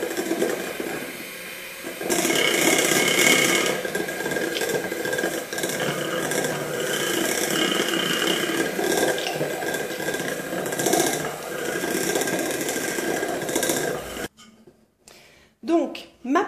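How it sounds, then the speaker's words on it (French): An electric whisk whirs steadily through a batter, a sustained buzzing drone with a slight rise in pitch partway through, close and fairly quiet, cutting off near the end with a few clinks. "Et on va pouvoir reprendre notre fouet électrique."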